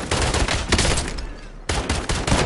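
Rapid bursts of automatic gunfire from a Call of Duty Warzone match fill the clip, loud and dense, breaking off briefly near the middle before the shooting resumes, with no speech over it.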